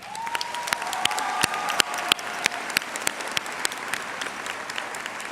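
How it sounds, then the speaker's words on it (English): A crowd at a high school graduation claps steadily with sharp individual claps standing out, sustained applause filling the space, with a faint tone lingering early on. "I'd like you to give yourselves a round of applause"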